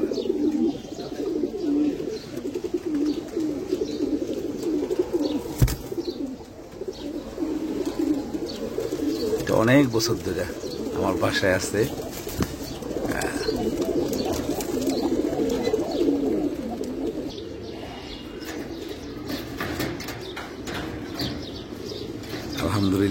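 Darogha pigeons, a Tuta and Darogha cross, coo steadily and softly at close range through the whole stretch while someone talks over them, with a few chirps and a brief flutter of wings.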